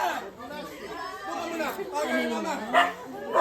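A dog barks and yips a few times amid lively group chatter and overlapping voices, close by and fairly loud.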